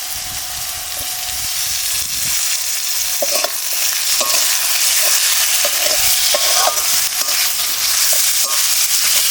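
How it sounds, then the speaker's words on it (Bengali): Chopped tomato fries with masala in a pan for a Rupchanda fish curry, making a loud, dense, steady sizzle with scattered stirring scrapes and small pops, heard close and without speech. "এবার দিয়ে দিচ্ছি টমেটো কুচি"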